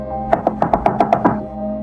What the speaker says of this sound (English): there was a frantic knock at the door